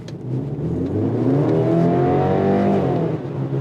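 A 2025 BMW X3 engine revs steadily with an eight-speed automatic, a loud, continuous rising and falling engine drone heard up close with no talking.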